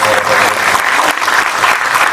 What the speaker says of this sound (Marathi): रितेश सरांसाठी एकदा जोरदार टाळ्या